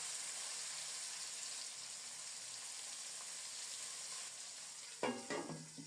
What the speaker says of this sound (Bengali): প্রথমে মাখানো মাছগুলো দিয়ে দেব, যেন মাছগুলো একটু ভাজা ভাজা হয়